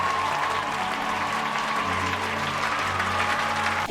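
Steady applause greets the first guest of a web talk show about anime. The sound is dense, continuous and fairly loud for the whole span, with no talking over it.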